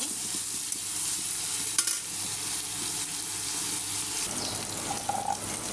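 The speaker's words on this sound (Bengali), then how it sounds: "তার জন্য আমি শুটকিটা ভেজে নিব" Dried fish (shutki) frying in peanut oil, a steady soft sizzle with occasional stirring scrapes and a brief clatter, faint and continuous with no talking.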